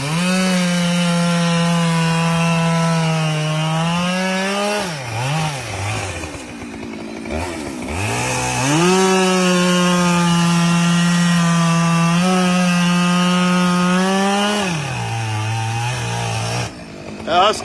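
A Husqvarna chainsaw bucks a hickory tree top log, its engine droning loud and close with pitch dips as the chain bogs into the wood and revs back up across the cut.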